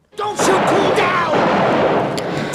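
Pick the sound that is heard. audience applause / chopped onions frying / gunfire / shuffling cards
gunfire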